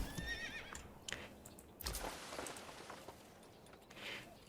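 A horse in the medieval city-building game Manor Lords gives a clear whinny, followed by a few quieter snorts and short neighs over a soft patter of rain and faint hoof clip-clop.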